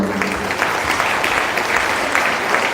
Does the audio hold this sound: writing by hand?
no